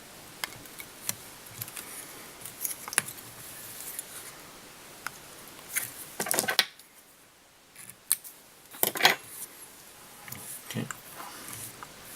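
Scissors snip material during the tying of a pink salmon tube fly, giving a series of close, quiet, irregular crisp snips spread through a soft background.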